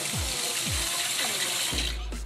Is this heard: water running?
yes